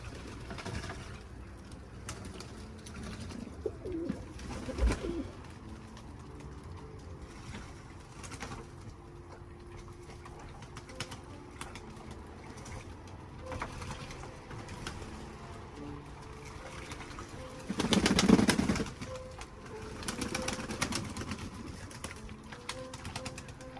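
Pigeons coo softly and intermittently at a distance, with a brief louder flurry that sounds like wing flaps, over low steady background noise on a damp, rainy day.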